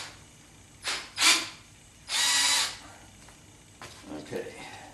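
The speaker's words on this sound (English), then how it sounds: "So first thing I've got to do is drill a pilot hole," A power drill boring a pilot hole during wiring work on a 1976 Corvette restomod gives several short whirring bursts, one held for about half a second, close and fairly loud with pauses between.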